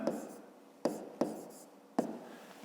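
A pen writes segment names by hand on paper for a fifth-grade geometry exercise, with four sharp, close strokes, each followed by a short scratchy trail, spaced unevenly over a few seconds.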